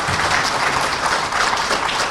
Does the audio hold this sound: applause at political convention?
yes